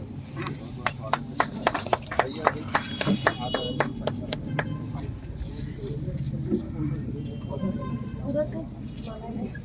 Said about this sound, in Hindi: आप सभी तालियों के गूंज के साथ इनको स्वागत करें